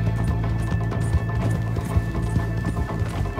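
Horse hooves galloping in the video game Red Dead Redemption 2, a steady rapid clip-clop drumming throughout at close range, set over a constant low rumble and hum.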